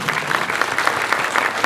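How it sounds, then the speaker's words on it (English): Dense, loud applause from a crowd at a silver jubilee fundraising dinner, a continuous close wash of many hands clapping throughout. "that applause is okay"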